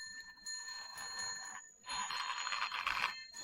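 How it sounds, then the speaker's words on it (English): Alarm bells hung on the ropes of a warning net ring in a tinny, jangling way, in two bursts with a short pause between them, the second louder and fuller, moderately quiet with no talking. "Bells on the ropes."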